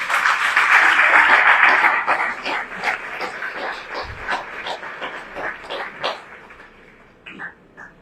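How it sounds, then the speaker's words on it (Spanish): A church congregation applauding during a Spanish-language sermon, loud massed clapping at first that quickly thins into scattered, uneven claps and faint murmuring voices. "Denle un fuerte aplauso a Cristo Jesús."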